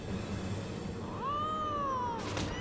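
A cat in the video game Final Fantasy XIV gives a single drawn-out, rising then level meow over steady game background sound, with a brief noisy burst near the end.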